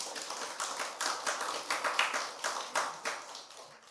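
A church congregation at a Sunday worship service clapping hands, a dense burst of applause with uneven rhythmic peaks, steady and fairly close for about four seconds.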